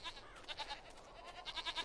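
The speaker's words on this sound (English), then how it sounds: "Goats?" Goats in the game Jade Empire bleat repeatedly in soft wavering pulses, several quick calls in two clusters at moderate distance with no talking over them.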